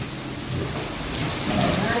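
Heavy rain falls on a farm in a downpour, a loud, close, continuous hiss and patter that swells slightly toward the end.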